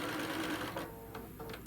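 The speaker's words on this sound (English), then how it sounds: "you just want to make sure that you're sewing through the quilt tack" A sewing machine hums and stitches briefly through a quilt tack, a close continuous whir that eases off toward the end.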